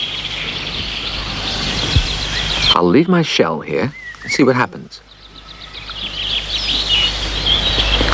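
Birds chirp in a wood, bright repeated calls sounding steadily at moderate distance, with a narrating voice speaking briefly over them in the middle.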